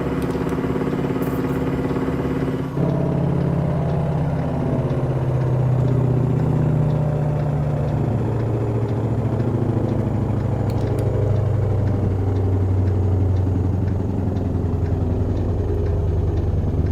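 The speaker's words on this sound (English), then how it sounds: "Don't you just love the sound of a big truck with the straight pipes on it?" A big straight-piped truck in American Truck Simulator roars at wide-open throttle, a loud, continuous deep exhaust drone that keeps steady over nearly seventeen seconds after a brief dip early on.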